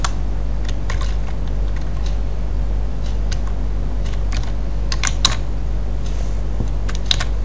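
Keys clacking on a computer keyboard while typing text in MS Paint, a steady run of light, close taps with occasional sharper clicks over a constant low hum.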